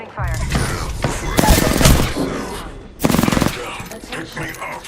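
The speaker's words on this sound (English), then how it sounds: "Opening fire." Rapid bursts of automatic gunfire from an Apex Legends battle, loud and close, with two dense volleys separated by a brief lull and talk mixed in.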